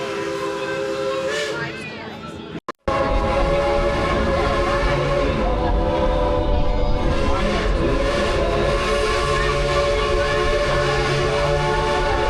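A train at Dollywood rumbles along on its run, with a brief steam whistle blast early and a busy mix of mechanical clatter and crowd noise continuing throughout.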